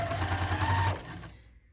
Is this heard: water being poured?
no